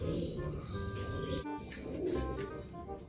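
Pigeons cooing softly while being handled for leg ringing, low murmuring coos repeating through a short, close stretch of ambient noise.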